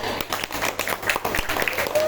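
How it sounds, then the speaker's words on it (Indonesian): Eighth-grade students applaud a group presenting on their school flag-raising troop, lively scattered clapping mixed with voices and cheering from the class. "Mari kita sambut kelompok 5 beri tepuk tangan yang meriah."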